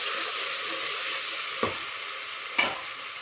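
Mango and coconut sauté in a hot pan with a steady, even sizzle, broken twice by brief scraping stirs of a spoon.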